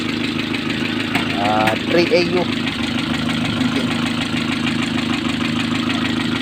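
An engine idles with a steady, low hum while a person talks over it nearby.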